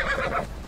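A horse in Assassin's Creed Odyssey lets out a brief, loud whinny up close, a harsh wavering neigh filling the moment with no talking over it.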